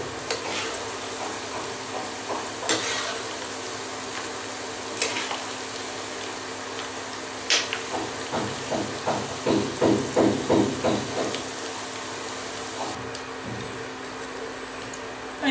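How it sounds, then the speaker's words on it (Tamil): Peanuts fry in hot oil, a continuous hiss with stirring knocks and a run of rapid rhythmic scraping strokes midway, close and fairly loud with no talking. "எண்ணெய் நல்லா சூடான பிறகு நாம் கடலை போடும்போது ஃப்ளேமை குறைச்சிக்குங்க"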